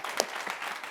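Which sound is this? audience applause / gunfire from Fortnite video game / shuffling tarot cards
audience applause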